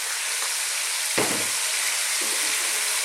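Meat and chopped red onion fry in a pot with a steady close sizzle, and a soft stirring scrape comes partway through.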